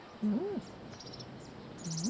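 A bird calls near a village with a restaurant, giving two rising, whistled phrases at the start and end of the clip, with faint higher chirps and insect-like buzzing in between, fairly close against quiet outdoor background.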